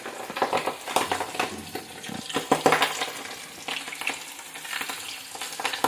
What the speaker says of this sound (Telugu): రెండో ముక్కను కూడా వేసేసాను, ఎందుకంటే రెండు ముక్కలు వేయించుదాము.